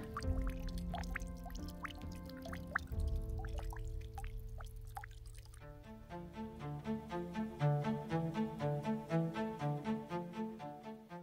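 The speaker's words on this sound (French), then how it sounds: "Dans le Vercors, il faut être patient pour remplir une gourde. C'est déjà pas mal que ça coule." Spring water in the limestone Vercors massif trickles and drips slowly into a water bottle, first as scattered irregular drops, then as a quicker rhythmic trickle with rising pitch as the bottle fills, close and quiet.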